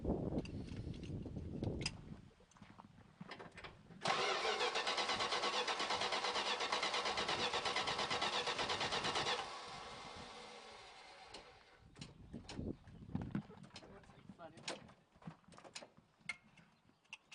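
A car engine with the choke on cranks and catches, then runs at a loud steady high idle for about five seconds before dropping off. Clunks and handling noises follow.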